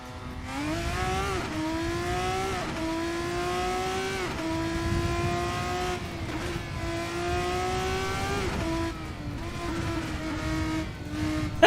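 Race car engine in the sim racing game Assetto Corsa revving steadily, pitch climbing through repeated gear changes with brief drops between, loud and continuous for the whole stretch with no talk.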